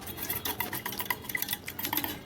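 A spoon clatters and scrapes in a bowl as beaten egg is mixed with onion, garlic, ginger and green chilli, making quick, busy metallic clinks up close without any speech.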